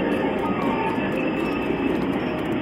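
Metro train arriving near the Dom Luís I bridge in Porto, a loud continuous rumble with rail squeal and rattling wheels throughout, close by.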